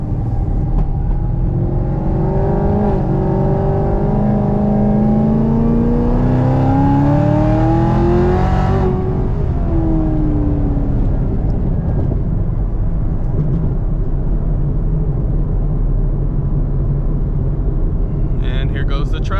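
A 900+ horsepower Chevrolet Camaro ZL1 roars as it drives, its engine pitch climbing while it accelerates and then settling into a steady loud cruising drone, with someone talking over it.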